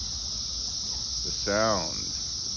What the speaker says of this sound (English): as you could probably hear, the cicadas abound.